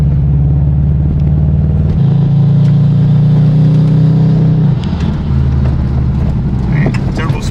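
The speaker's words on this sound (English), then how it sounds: "That is the boxer misfire we're hearing, actually." Subaru WRX boxer engine misfiring while revving, heard as a loud, steady low droning rumble with uneven pitch shifts and rough pulsing, close up throughout with people talking over it.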